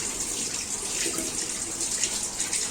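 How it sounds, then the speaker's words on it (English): A shower-style water nozzle on a brine shrimp filtering net sprays steadily, a close, even hiss of running water with no pause and no voices. "So open the water nozzle."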